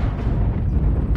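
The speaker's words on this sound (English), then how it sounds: "Somebody's shooting off a gauss and I can't see who the hell's doing it" A gauss rifle fires in MechWarrior Online, a loud, low, rumbling blast that fills the whole moment with heavy booming energy, ending in a brief higher crackle.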